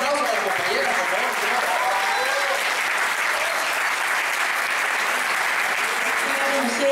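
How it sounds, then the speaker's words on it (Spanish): A crowd at a Día de la Dignidad Obrera workers' gathering gives loud, dense applause for Karen Lustosa of the Corriente Popular de Mujeres, unbroken clapping at a constant level with voices mixed into the roar. "Un fuerte aplauso para la compañera, por favor."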